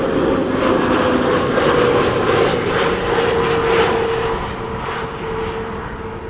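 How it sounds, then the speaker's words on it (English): Airbus A320neo jet airliner on British Airways flight 430 arriving from London Heathrow. Its engines roar loud and steady with a sustained whine, then ease gradually as it passes. "BA flight 430 arriving from London Heathrow, A320neo"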